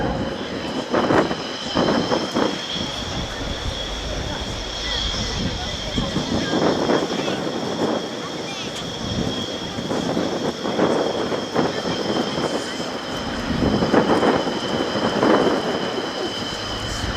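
An Airbus A400M Atlas four-turboprop airlifter flies a display at an airshow, giving a steady, sustained turboprop drone with a high whine, loud and fairly close. A commentator talks over it throughout.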